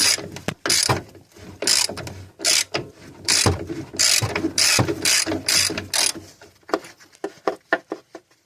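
A ratcheting wrench turns a shock bolt on a Honda Recon ATV, giving close, loud bursts of rapid clicking strokes separated by short pauses, each run of clicks lasting under a second.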